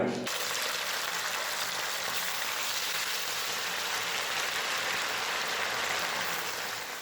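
Chicken pieces for lemon chicken drop into hot oil and fry with a loud, dense sizzle that begins abruptly and holds steady to the end.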